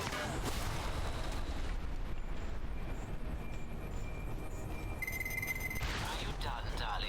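Gunfire in the spy action game Alpha Protocol, sounding as sharp shots near the beginning and end over a constant noisy combat backdrop, with a short electronic tone in between.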